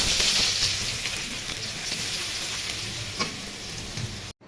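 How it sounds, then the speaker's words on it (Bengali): Onions sizzle in the oil left from frying silver carp, a close, continuous frying hiss with a few soft stirring knocks, ending in a sudden cut. "মাছ ভাজা তেলের মধ্যে এখন পেঁয়াজের বেরেস্তা করে নিব।"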